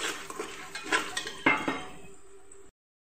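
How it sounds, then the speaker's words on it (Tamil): Mustard seeds splutter in hot oil for tamarind rice, scattered sharp pops and crackles over a low sizzle for a couple of seconds before cutting off. "கடுகு நல்லா பொரியட்டும்."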